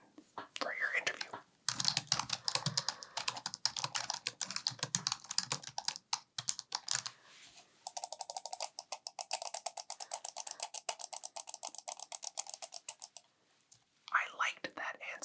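Computer keyboard keys clatter in quick close-up bursts, first in a busy, uneven run and then in a steadier stream of light taps, with mouse clicks mixed in and soft whispering at the start and end.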